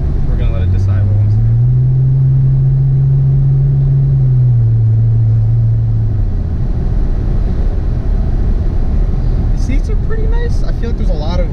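A 2010 Ford Taurus SHO being driven, heard from inside the cabin as a constant loud road and engine rumble with a humming engine tone that holds and then drops, and faint voices near the end.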